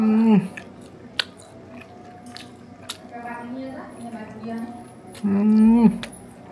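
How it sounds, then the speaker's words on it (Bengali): People eat freshly made pitha together, soft squishy chewing and biting sounds close by, with a couple of short crunchy clicks, while voices talk around them. "বেরা পিঠা বানানো হয়ে গেল। এই যে সবাই মিলে এখন খাবো আমরা।"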